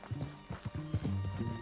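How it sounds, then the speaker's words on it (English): Horse hooves clip-clop in Red Dead Redemption 2, a short run of close, uneven hoofbeats with a low droning tone beneath. "Get your horse and let's go."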